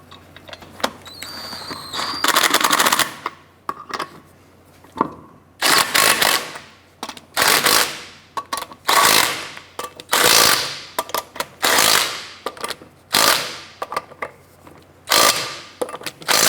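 Impact wrench snugging lug nuts on a 2006-2013 Chevy Impala wheel, loud close bursts of rattling hammering separated by short pauses, about a dozen bursts in a row, with no talk.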